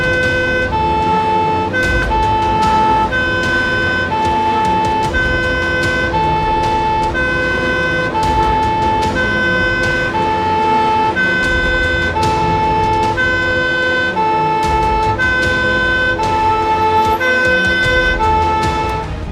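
A fire brigade VSAV ambulance departing with its two-tone siren wailing steadily and loudly, the alternating pitch repeating evenly over a low engine rumble throughout.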